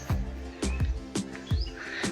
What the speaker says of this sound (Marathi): पक्षाचं किलबिलाट पक्षाचा आवाज